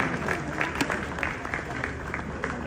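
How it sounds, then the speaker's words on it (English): An audience at a Ghanaian talk show breaks into applause, a quiet, continuous patter of clapping with some crowd noise, heard at a distance and fairly faint throughout. "A round of applause for Wodemaya."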